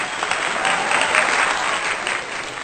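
An audience at a Hindi poetry gathering breaks into loud, sustained applause for the poet Ranvijay Rao, thick even clapping that swells slightly mid-way and holds steady throughout.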